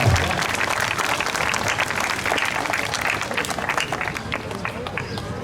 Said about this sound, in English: Please, round of applause for all of those who are joining us today.